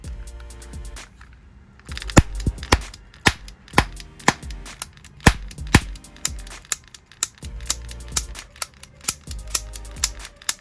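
Plastic transforming-robot toy gun clicking off a rapid run of sharp, snappy cap-like shots, close and fairly loud, in irregular bursts with short pauses and no talking.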